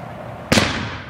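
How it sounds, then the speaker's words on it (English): A single sharp crackling burst of a mortar firework at a Fourth of July celebration, a sudden bright pop with a fizzing tail that fades over a second. "I'm going to launch a mortar."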